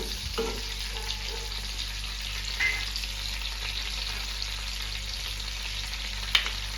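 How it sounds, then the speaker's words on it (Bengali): Bay leaf, cardamom, cinnamon and cloves sizzle in hot butter in a pan, a steady close frying hiss with a few brief stirring clinks and no speech. "মাখন দিয়ে ওর মধ্যে তেজপাতা, এলাচ, দারচিনি, লবঙ্গ সব ফোড়ন দিয়ে দিলাম।"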